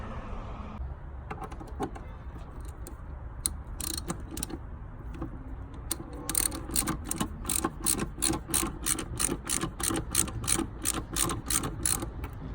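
A hand ratchet loosens bolts from a part on a Lamborghini Countach kit car: scattered clicks and light mechanical clatter give way to rapid, rhythmic ratcheting bursts, close up, with no talking.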